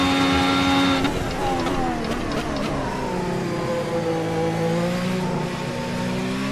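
The Ferrari SF70H Formula 1 car in Assetto Corsa, its high-pitched engine dropping sharply on a downshift, then climbing steadily under acceleration, loud and close throughout.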